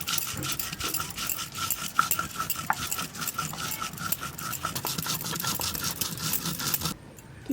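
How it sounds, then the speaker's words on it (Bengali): Cumin, ginger and green chilli are ground by hand on a grinding stone, giving a close, steady gritty rubbing and scraping in regular back-and-forth strokes that stops just before the end. "জিরে আদার কাঁচা লঙ্কা একসাথে বাটবো তো প্রথমে জিরেটা একটু বেটে নিই"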